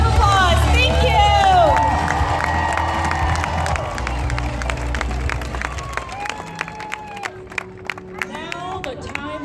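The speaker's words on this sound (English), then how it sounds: "Let's give all our partners, support teams, and another big round of applause" A large crowd claps and cheers at the closing ceremony of the 2015 Atlanta 3-Day breast cancer walk, loud at first and thinning out, with a voice over a PA system mixed in.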